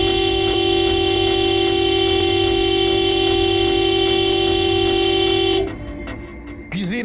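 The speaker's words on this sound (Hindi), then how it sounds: "ऐसे हॉर्न क्यों बजा रहे हो?" A loud car horn blares continuously for several seconds, then cuts off, leaving quieter street noise with a short squeak near the end.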